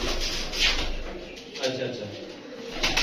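Pigeons coo softly nearby amid rustling and shuffling, with a voice talking over them.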